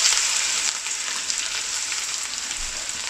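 Chopped onions fry in hot oil with whole spices such as bay leaf, cinnamon, cardamom and peppercorns, making a loud, close, even hissing sizzle that never lets up.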